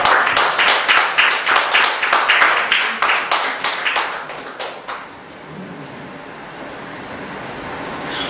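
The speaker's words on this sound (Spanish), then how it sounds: "Así que yo pido para Carmen Victoria Muñoz un aplauso." Audience claps for about five seconds at a literary event, a dense patter of hands that fades out and leaves quiet room tone.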